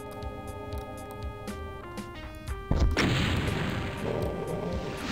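Rocket explosions in Doom (1993): scattered sharp game hits and thuds, then a heavy booming blast near the three-second mark followed by a sustained roaring rumble, loud and close, with no speech.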